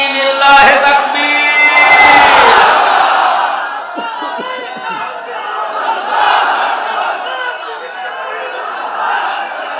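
Large crowd answering a takbir call at an outdoor religious sermon gathering, many voices roaring the chant together loudly, swelling and fading in a long collective shout with some scattered chatter after.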